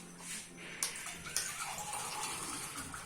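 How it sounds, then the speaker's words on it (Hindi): Water poured into gram flour (besan) to make batter for Lahori fish fry, a soft continuous trickling and splashing with a couple of small knocks, close and moderately quiet, no speech. "तो इसमें थोड़ा सा पानी डालूंगा"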